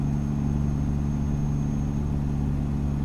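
Truck engine braking with a Jake brake in American Truck Simulator, a steady low-pitched engine drone holding evenly throughout without a clear rev change.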